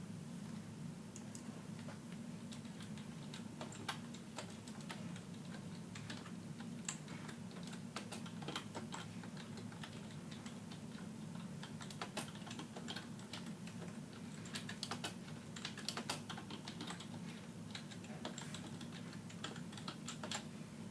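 Fast, steady typing on a computer keyboard, heard as a faint, close run of light clicking keystrokes that continues for about twenty seconds with no voices.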